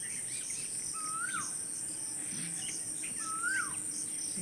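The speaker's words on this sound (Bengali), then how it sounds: "কোকিল ডাকছে" A koel calls twice in open fields at dawn, each clear rising-and-falling whistle spaced a couple of seconds apart, set against a constant high drone of crickets.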